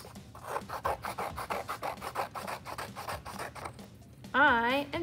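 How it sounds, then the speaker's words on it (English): Scissors snip through brown paper while a tree trunk is cut out for a children's collage, a fast run of close, crisp rasping cuts that ends as a voice starts to speak. "So you're cutting the tree trunk out of your brown paper."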